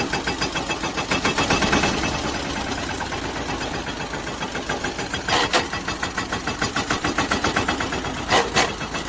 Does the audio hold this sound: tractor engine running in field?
yes